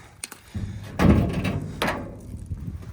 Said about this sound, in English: Let's see if this door opens.